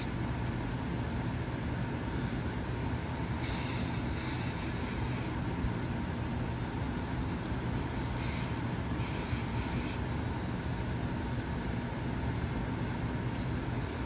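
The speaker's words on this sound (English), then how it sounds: "I spray it across and then I'm going to pull it down." Spray bottle misting product onto hair during a passion twist install, two bursts of bright hissing spray, the first longer and the second split into quick pulses, over a faint steady room hiss.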